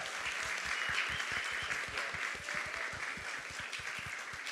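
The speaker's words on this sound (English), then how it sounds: "let's give a big round of applause for our speakers" Audience applause for panel speakers at a conference session, sustained, even clapping from a sizable crowd heard at moderate distance, with some louder individual claps standing out in the dense wash.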